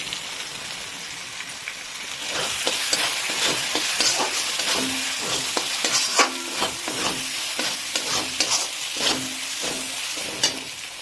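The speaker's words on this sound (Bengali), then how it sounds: "এই আদা রসুন দিয়ে কিন্তু আমাদের 5 মিনিটের মতন দেখুন ভাজা হয়ে গেছে। আর এই সময় তো আমরা দিয়ে দিচ্ছি গুঁড়ো মশলাগুলো।" Ginger and garlic fry with powdered spices in a pan as the base for chicken kasa, a steady crackling sizzle broken by repeated stirring scrapes and taps throughout.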